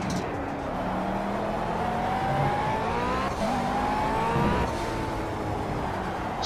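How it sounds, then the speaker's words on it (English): A turbocharged race car in the Project Cars racing game drives on steadily, its engine drone rising and falling through gear changes with a faint whining tone, heard continuously without talk. "Still hear the turbo though."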